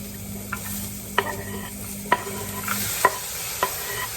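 An egg frying in a pan of sprayed olive or sunflower oil: a soft, steady sizzle with a few light utensil taps and scrapes against the pan.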